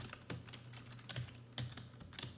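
Quick, light keystrokes clatter on a computer keyboard, close and fairly soft, with irregular taps spread across a couple of seconds.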